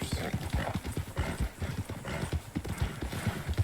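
Steady clip-clop of horse hooves at a brisk gait in the video game Red Dead Redemption II, close and continuous, with a brief whinny and light background talk.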